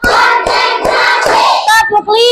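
A class of fourth-grade pupils claps in a steady counted rhythm, several sharp claps spaced about half a second apart beneath loud group chanting, with a teacher's voice following.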